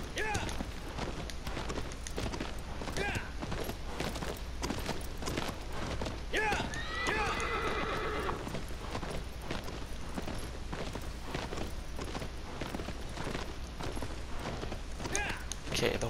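Rapid hoofbeats of a galloping horse in Shadow of the Colossus pound steadily throughout, with a brief whinny partway through, over a constant low background hum.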